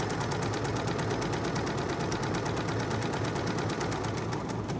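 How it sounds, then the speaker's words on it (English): A serger sewing at high speed rattles in a fast, even stitching rhythm, loud and close, with the table vibrating beneath it the whole time. "I'm not sure if it's just my serger, but this whole table will shake like crazy."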